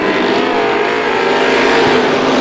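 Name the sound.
stock cars racing at speedway after green flag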